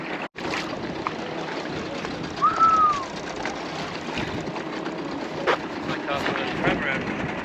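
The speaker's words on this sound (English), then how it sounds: "Just letting it idle in at the moment." Tinny's outboard motor idling in very shallow water off the Dampier Islands, a faint steady low putter beneath water lapping and wind, with a brief whistle-like tone partway through.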